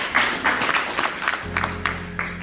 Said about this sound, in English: Give Wes a round of applause.